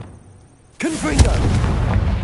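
A Confringo blasting curse in Hogwarts Legacy goes off suddenly after a quiet moment as a loud booming explosion. A short vocal cry rides over it, and a rumbling tail follows.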